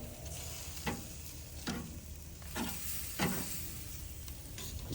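Oysters and shrimp grilling over a fire, set toward the outer edge away from the hottest part, with a steady faint sizzle and crackle and a few soft scrape-like clicks at irregular intervals.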